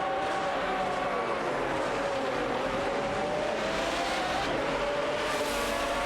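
Aston Martin DBR9 and Porsche 911 GT2 race cars in a racing video game battle closely, a continuous loud engine drone with a whining, shifting pitch and tire noise throughout.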